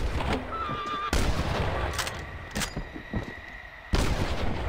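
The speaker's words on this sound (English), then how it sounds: "I'm shooting the back of the horse" Gunshots in Red Dead Redemption fired at a horse: several loud, close cracks come at irregular intervals, one at the start and others spaced across a few seconds, with a brief whinny-like cry between them.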